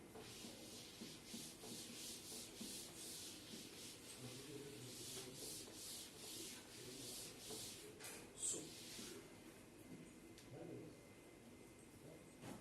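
A blackboard in a classroom is wiped clean with steady, repeated rubbing strokes. The scrubbing is soft and continuous and stays close by, with no talk over it.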